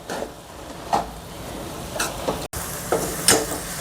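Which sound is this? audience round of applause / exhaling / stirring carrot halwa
stirring carrot halwa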